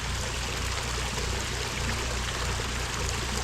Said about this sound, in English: Very cool. Nice waterfalls.